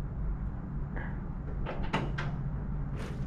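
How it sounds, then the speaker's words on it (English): Home door being opened by a schoolchild, a few short clicks and knocks of the latch and handle followed by a brief creak and sliding rustle, close by over a low indoor hum, with no talk. "let's let him open the door"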